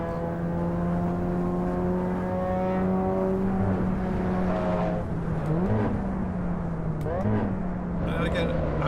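Muffled Volkswagen Golf engine heard from the cabin in the racing game Assetto Corsa Evo, a steady droning hum that rises and dips with a couple of gear shifts, continuous and fairly loud throughout.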